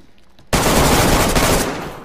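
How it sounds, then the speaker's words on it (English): A shotgun blast goes off in the video game DayZ, starting with a sudden loud crack after a brief near-silence and leaving a dense burst of noise that slowly fades. "Blasting with a shotgun"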